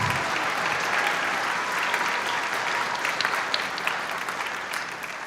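At a high school jazz and symphonic band concert, the audience claps in a full, steady round of applause that gradually tapers toward the end.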